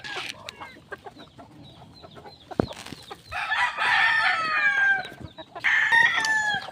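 Pet chickens at a feeding spot let out clucks and squawks, then a rooster crows loudly twice nearby, each call a long, drawn-out cry, with scattered knocks and shuffling around them.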